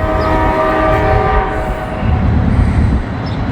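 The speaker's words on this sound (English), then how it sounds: "We got a train coming." Loud freight train in Northern Kentucky pulling hard uphill, rumbling close by with a sustained horn blast over heavy low-end roar and rattling.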